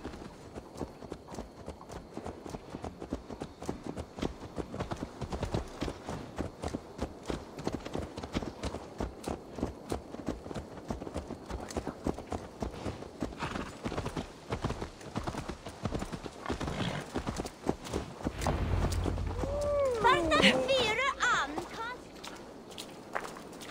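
Horse hooves clip-clop steadily at a walking pace in Assassin's Creed Valhalla, a long even run of close hoofbeats that swells louder toward the end, with a brief whinny-like cry near the finish.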